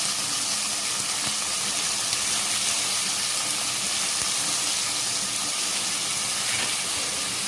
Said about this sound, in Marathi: आता याच्यामध्ये आपला कांदा टाकून घ्यायचा कांदा टमाटा